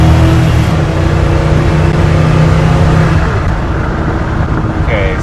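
A 1972 Chevrolet C20 truck pulls hard from a standstill toward 80, its engine a loud continuous drone that falls away in pitch as it shifts up and the rush of wind and road noise builds.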